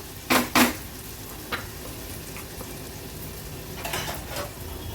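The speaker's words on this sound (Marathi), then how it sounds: "व्यवस्थित मिक्स करून घ्यायचं आहे आणि कांदा, आलं, लसूण, मिरचीचा क्रश शिजवून घ्यायचा आहे आपल्याला." A crushed mix of onion, ginger, garlic and chili fries in a pan, giving a soft steady sizzle beneath a few sharp scraping stirs near the start and end.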